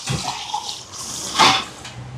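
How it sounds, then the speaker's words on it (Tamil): Coconut milk pours onto rice in a home kitchen, a brief liquid splash and trickle rising near the middle of the clip over a soft background. "ரெண்டு டம்ளருக்கு மூன்று டம்ளர் தேங்காய் பால் சேர்க்க போகிறேன்"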